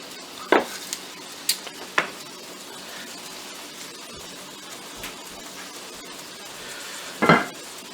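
Bacon and garlic frying in a pan, a soft continuous sizzle broken by sharp clinks of a utensil against the pan, several early and a louder clatter near the end.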